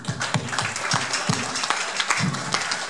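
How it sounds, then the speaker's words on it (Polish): Applause for the other bands at a Desperate Times show at Bez Ziewania 2013, a moderate, dense patter of clapping from a small crowd, steady for a few seconds with occasional louder claps near the front. "dla nich też duże brawa"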